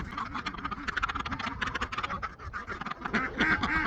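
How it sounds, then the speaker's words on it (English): A flock of ducks quacks busily and continuously up close, many overlapping calls in a noisy, chattering stream. "Come on, ducks."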